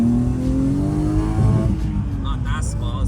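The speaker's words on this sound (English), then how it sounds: "It still has a small exhaust leak." BMW 318ti drift build with a rough steering pump and an exhaust leak, heard from inside the cabin as a loud, droning engine that climbs steadily in pitch while a voice talks over it.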